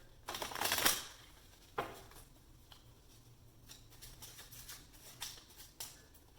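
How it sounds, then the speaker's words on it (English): Cards are riffled and shuffled up close, with a burst of rapid papery flutter followed by scattered softer flicks and taps. "Just want to get a good shuffle here."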